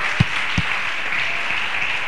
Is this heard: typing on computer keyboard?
no